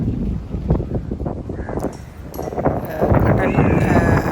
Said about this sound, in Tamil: அலையும் காற்றும் சேர்ந்து ஒரே இரைச்சல் சத்தம் கூடுதலாக இருக்குது